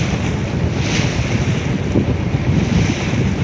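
Sea surf breaks and churns continuously at close range beside a fishing boat out at sea, a loud, dense roar mixed with buffeting wind.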